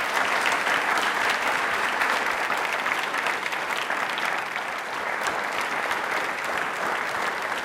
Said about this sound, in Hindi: तालियां एक बार जोरदार हो जाएं प्लीज।